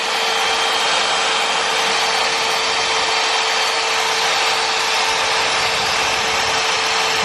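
Jigsaw blade cutting through the metal side panel of a Fiat Ducato van for a window opening, a continuous harsh buzzing rasp held at steady loudness, close up and without speech.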